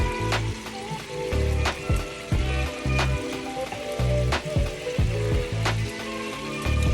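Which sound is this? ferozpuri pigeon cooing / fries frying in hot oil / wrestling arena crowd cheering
fries frying in hot oil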